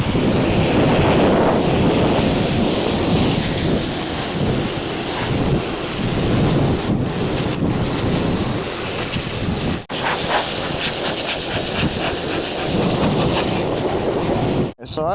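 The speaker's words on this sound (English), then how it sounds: "we're going to hit it with the pressure washer" A pressure washer blasts a part from a totaled Dodge truck with a 12v Cummins, making a loud, continuous close-up spray hiss. It breaks off briefly a couple of times, then resumes.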